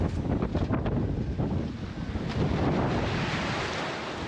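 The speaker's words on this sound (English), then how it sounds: "The bow slams into every wave" Strong wind roars into the microphone as waves rush and splash against the bow of a sailboat sailing close-hauled in Force 6 to 8 weather, with a surge of water midway.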